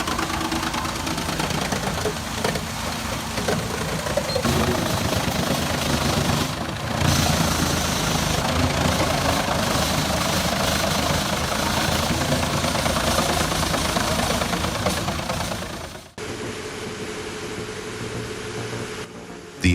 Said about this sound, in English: New Holland tractor is seriously powerful.